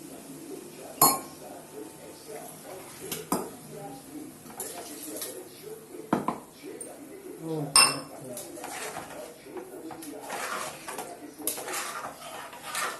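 A spoon clinks and scrapes against a metal pot as rice and water are stirred for vegetable biryani, with sharp irregular knocks over a soft kitchen background.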